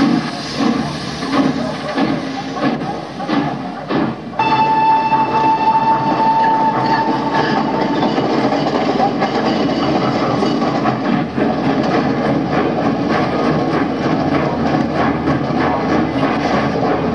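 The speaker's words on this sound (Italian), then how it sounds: "Il treno viaggiava lentamente, con lunghe soste snervanti." A train travels slowly on rails, its loud rumbling and clattering wagons rolling steadily for the whole stretch, with a brief tonal squeal or whistle partway through.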